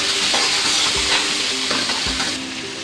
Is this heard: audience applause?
no